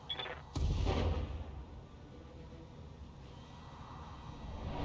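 Thumper artillery firing in the BattleTech video game, one heavy booming shot with a rumbling tail that fades into a low steady battlefield drone.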